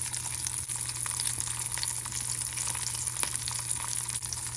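Fresh herring pan frying over medium-low heat, a steady, fairly quiet sizzle with crackling pops running throughout and no talking.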